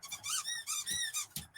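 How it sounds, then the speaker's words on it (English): Dog's squeaky toy squeezed repeatedly indoors, several quick high-pitched squeaks in an uneven rhythm, close and clear with no talking. "She still has a toy that squeaks."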